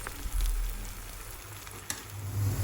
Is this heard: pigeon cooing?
no